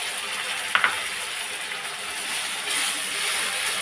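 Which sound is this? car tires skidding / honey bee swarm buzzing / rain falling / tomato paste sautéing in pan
tomato paste sautéing in pan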